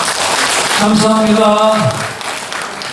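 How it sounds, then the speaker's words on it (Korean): Congregation applause during a Sunday church service, steady clapping throughout with a man's sung or spoken voice rising over it midway. "할렐루야 박수로 화답하겠습니다."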